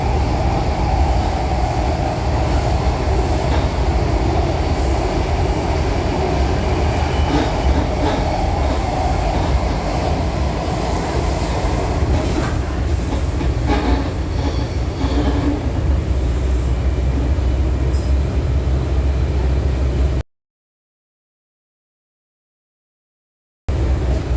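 Riding a Washington D.C. Metro train gives a loud, steady rumble of wheels and carriage with rhythmic clacks and some faint squealing, continuous for about twenty seconds before a sudden cut to silence.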